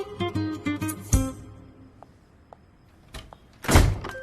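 A door opens or closes in a dubbed South Indian film scene: a sharp thump follows a burst of music, then a few faint clicks and a louder final knock or clatter near the end.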